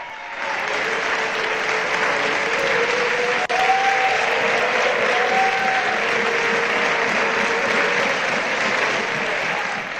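Sustained applause for Spanish Socialist Party leader Pedro Sánchez in a parliamentary chamber, a dense, steady wash of many hands clapping for the full stretch, loud and even with no voices above it.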